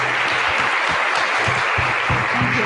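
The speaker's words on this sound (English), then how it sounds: "Let me thank first Mr. James Edson, who deserves a warm applause." An audience gives a keynote speaker a round of applause, dense and steady clapping that fills the room at close range from start to end.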